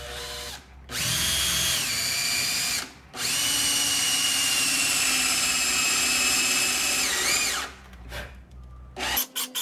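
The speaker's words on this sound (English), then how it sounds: "So let me start drilling all this out." A power drill whirs loudly in two long bursts while drilling into timber, revving up and spinning down, with a short pause between them and faint clatter at the end.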